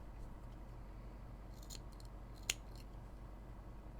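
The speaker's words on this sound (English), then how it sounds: "those particular pink scissors" Faint snips of pink non-shear scissors during needle felting, a few soft cuts followed by one sharper snip, against a quiet background hum.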